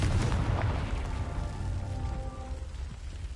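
A Confringo spell explosion in the video game Hogwarts Legacy, heard as a loud, deep booming blast that starts the clip at full strength and then settles into a sustained rumbling roar with no talk.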